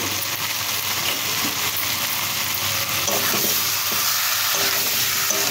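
Chicken pieces stir-frying in a hot pan with spices and salt, a loud continuous sizzle with scraping stirs throughout, close and without talk.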